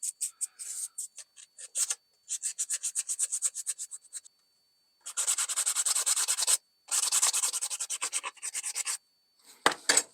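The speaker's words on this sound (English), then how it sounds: "I'm going to go ahead and hand sand it." Hand sanding a knife blade, with rhythmic bursts of rapid rubbing strokes in several runs separated by short pauses, close and fairly loud, ending with a brief knock.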